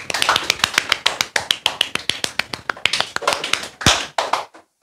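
A teacher ends a high school math lesson with a long run of steady, brisk hand claps, loud and close, around twenty in quick succession, slowing at the end before stopping.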